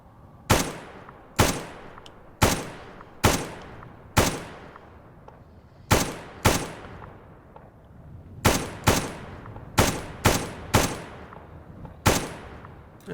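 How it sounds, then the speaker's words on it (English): Gunfire from the video game S.T.A.L.K.E.R.: Call of Pripyat comes as sharp, loud single shots with short echoing tails. About fourteen shots arrive at irregular intervals, some in quick pairs, with no speech. "I'd rather expend some extra ammo shooting at it from this distance"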